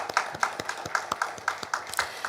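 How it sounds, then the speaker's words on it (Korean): Congregation applauding at a Sunday evening church worship service, a modest room of hands clapping in a loose, fairly even rhythm, crisp individual claps standing out at moderate volume. "지켜주신 아버지 하나님께 감사와 영광의 박수 올려드립니다"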